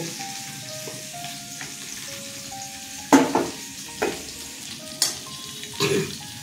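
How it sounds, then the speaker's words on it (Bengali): Pointed gourd (potol) frying in oil gives a steady close sizzle, broken by a handful of sharper knocks and scrapes as the pieces are stirred. "পটলগুলো ভাজা হয়ে গেছে"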